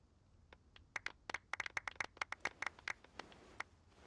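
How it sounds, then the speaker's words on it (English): Scattered applause for champion Kaveh in a game cutscene, a few sparse hands clapping in quick uneven bursts for a few seconds, faint and thin, no talk. "Let's give our champion Kaveh one last big round of applause."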